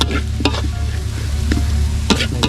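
Quail being stir-fried with herbs in a hot pan, a steady close sizzle with scraping stir strokes and clanks of the utensil against the pan recurring throughout.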